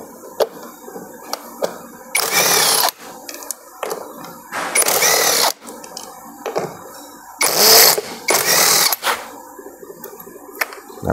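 An impact driver removes the radiator fan screws on a Nissan C22 Vanette in several short, loud rattling bursts, separated by quieter clicks and handling noises.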